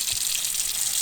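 Water runs steadily from a tap on a newly hooked-up off-grid water system, a continuous bright hiss that stays even and close for the whole moment with no voices.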